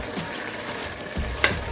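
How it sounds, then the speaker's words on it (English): Pineapple flesh heats in a hot pan with a steady, close sizzle and frying crackle, a sharp spit near the end, no talking. "I'm just going to let it heat through"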